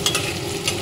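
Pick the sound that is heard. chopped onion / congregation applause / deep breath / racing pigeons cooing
chopped onion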